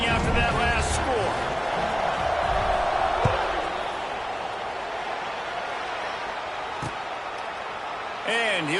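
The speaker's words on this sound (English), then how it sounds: "this crowd is buzzing after that last score" A large crowd buzzes steadily in a football stadium during a Clemson college football video game, a constant broad roar with a few sharp thuds and whistle-like chirps, while a commentator talks over it throughout.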